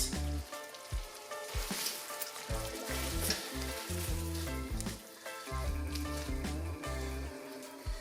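Spring onions sizzle in a hot pan for honey garlic prawns, a steady frying hiss running beneath loud, rhythmic background music throughout.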